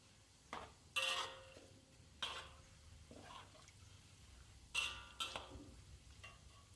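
Minced meat frying in a pan: scattered scraping and clanking sounds, with a faint sizzle underneath and irregular stirring strokes.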